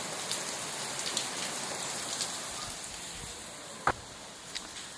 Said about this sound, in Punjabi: ਬਹੁਤ ਜ਼ਿਆਦਾ ਮੀਂਹ ਪੈਂਦਾ ਪਿਆ